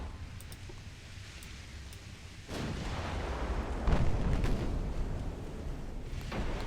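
Naval gunfire from warships in the Ultimate Admiral: Dreadnoughts video game, a muffled rumbling barrage with a sudden surge of booms midway and a heavier blast shortly after, over continuous low roar.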